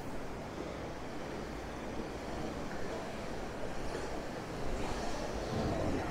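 Sea waves washing onto Blackpool South Beach, a soft continuous surf wash mixed with wind buffeting the microphone, swelling slightly louder toward the end.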